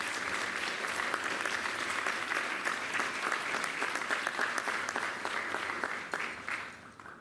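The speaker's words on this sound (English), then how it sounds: "Let's give them a round of applause." Steady, loud applause from an audience at a mayoral policing announcement fills the whole stretch, dense clapping without pause that fades slightly at the very end.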